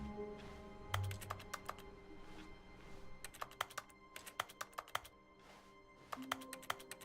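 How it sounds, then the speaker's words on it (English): Rapid keyboard typing in The Stanley Parable video game, sharp clicking keystrokes arriving in quick irregular bursts separated by short pauses, close and clear over a low office ambience with a faint tone. "Even the glass makes typing sounds."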